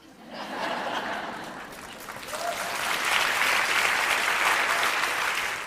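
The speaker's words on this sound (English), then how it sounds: "I wish that didn't get an applause" Applause from a live audience at a spoken talk, swelling in and building louder toward the end, with a few chuckles mixed into the steady clapping.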